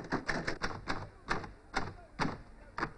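A typewriter being typed on, with some of its keys sticking, gives a steady run of fairly soft, evenly spaced clacks up close, with no talk over them.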